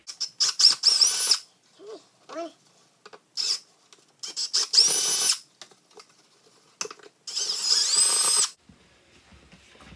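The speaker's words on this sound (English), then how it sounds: "so we augered out those 3 holes" A power drill bores holes into soft plastic for a Honda Pioneer 1000-5 storage fitting, coming in several short whining bursts separated by pauses, close and fairly loud, with a few faint squeaks between them.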